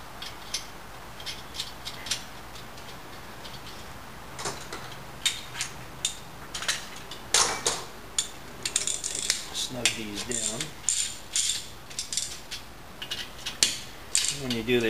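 A ratchet snugging down head bolt nuts on an early Porsche 356 engine, with bursts of quick clicking strokes and metallic taps in an irregular rhythm, close by, between stretches of quieter work.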